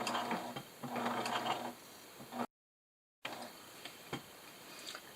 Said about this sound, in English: I am going to back stitch there just a little bit.